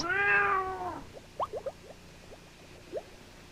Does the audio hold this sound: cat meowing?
yes